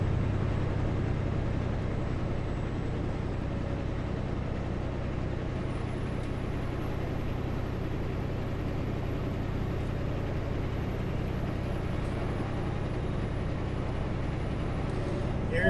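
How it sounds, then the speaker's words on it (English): Truck engine drones steadily while driving on the road from Grand Forks to Rock Creek, a loud, continuous low rumble with road noise and a faint high whine running throughout. "You don't want the truck engine noise overwhelming what I'm saying."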